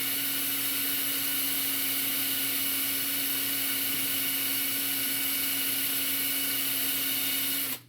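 A rotary polishing tool whirs steadily and close on a painted 1/4-scale custom figure, a dense, even drill-like hum with a faint tonal whine that cuts off abruptly at the very end.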